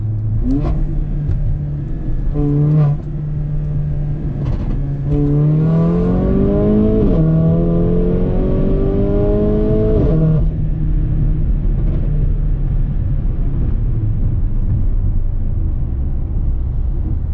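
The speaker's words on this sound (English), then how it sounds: "I'll let you guys listen to it fully rev out." A Mercedes-AMG GLA45 with a tuned transmission in sport and manual mode idles, then revs up in rising surges to a high, loud whine before dropping back to a steady idle rumble; no voices.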